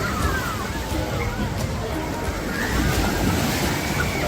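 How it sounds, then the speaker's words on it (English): Waves slosh steadily and loudly through cold water in the wave pool at Six Flags Hurricane Harbor in New England, with a continuous wash and distant crowd babble underneath. "Damn, this water is cold with these waves."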